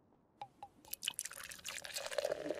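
Water in a role-play video game begins with a few separate drips, then turns into a splashing, trickling pour from a tap, growing louder and busier toward the end with no one speaking.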